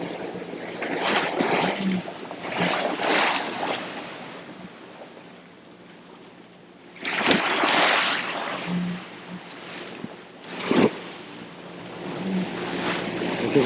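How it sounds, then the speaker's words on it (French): Open sea and waves heard aboard a sailboat off the north coast of Menorca, a steady broadband wash of water and wind with louder surges of spray and slapping at intervals, close and continuous with no talking. "ça va te donner une idée de comment est la mer."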